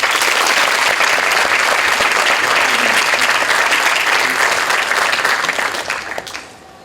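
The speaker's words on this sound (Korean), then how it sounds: "김우중 회장께 여러분들 뜨거운 박수 부탁드리겠습니다." Loud, sustained applause from a large audience, welcoming chairman Kim Woo-jung to the stage for an invited lecture to students at his alma mater. The clapping stays dense and steady, then fades out near the end.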